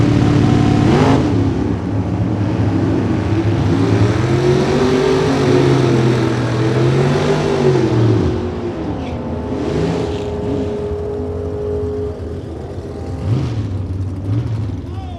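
Drag race cars, including a 565 cubic inch Chevrolet, roaring away down the strip, a loud engine howl that rises in pitch and then fades into the distance, with a commentator talking over it.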